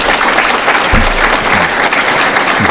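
An audience applauds for Héctor Guillén at an intellectual forum, a short burst of dense, steady clapping that fills the whole moment without any voice over it.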